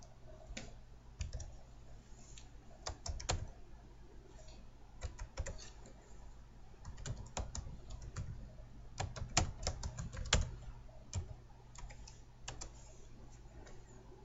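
Quiet, close typing on a computer keyboard while entering a heading in a spreadsheet: irregular bursts of crisp key clicks with short pauses, over a faint steady electrical hum.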